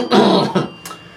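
A single person clears their throat in a rough, raspy cough, one strong burst followed by a shorter second hack and a faint trailing breath.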